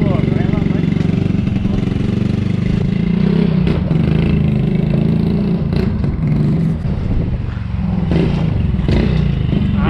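Motor tricycle built from scrap parts and lacking a clutch, its engine rumbling and clattering steadily throughout a test ride, with voices talking over the noise.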